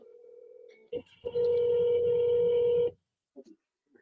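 Telephone tones after a call is forwarded to voicemail: a steady low beep, a brief click, then a loud sustained higher tone lasting over a second, followed by a few faint clicks.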